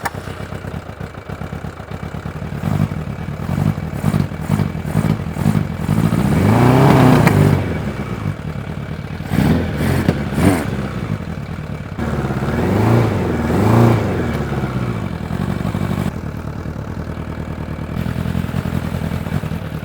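A motorcycle engine running rough on only two cylinders idles and revs in uneven bursts as the bike creeps forward and back, close and loud, with mechanical clatter between throttle blips.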